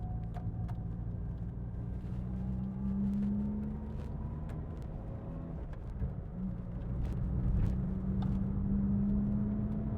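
A 1983 Ford Fiesta driving along, its engine holding a steady, fairly close drone with slight rises in pitch over ten seconds, no voices.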